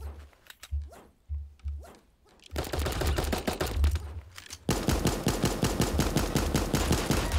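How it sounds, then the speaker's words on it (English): Rapid gunfire in a shooter video game, first a few separate shots, then long sustained bursts of fast automatic fire that grow louder and denser toward the end. "did I hear gunshots above?"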